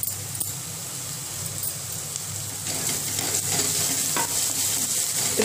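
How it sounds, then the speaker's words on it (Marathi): Onion and garlic paste frying in a pan while being stirred, a steady close sizzle with scraping stirring strokes that grows slightly louder partway through, no voices. "कांदा आपला भाजत आलेला आहे, त्याच्यामध्ये लसणाची पेस्ट घालायची आहे"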